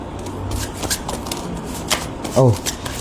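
Tarot cards being shuffled by hand, a steady papery riffle and slide running through the clip, with a soft voice murmuring briefly near the end.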